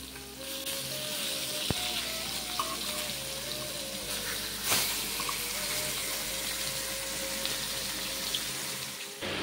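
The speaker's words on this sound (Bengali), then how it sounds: "এখানে মাছ আমি চার পিস ভেজে দিচ্ছি" Four pieces of fish fry in a pan with a continuous close sizzle and crackle, steady and unbroken, with an occasional sharp tap partway through.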